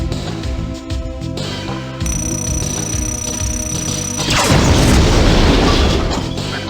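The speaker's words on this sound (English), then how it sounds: "Ion cannon ready." An ion cannon strike explodes in the C&C Red Dawn strategy game, a loud crashing boom that swells over ongoing battle noise and a steady electronic tone, then lingers as a broad rumbling roar.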